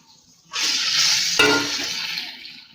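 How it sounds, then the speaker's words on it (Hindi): Chicken tikka mixture hitting a hot pan on medium heat, breaking into a loud, steady sizzle that continues with stirring, a brief scraping clatter of the spoon midway. "आप मीडियम आंच पे इसे फ्राई करेंगे और मिक्स करेंगे अच्छे से।"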